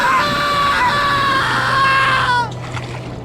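Shrill, piercing scream from a shipwreck survival reenactment, sustained loud and close for about two seconds before cutting off abruptly into quiet.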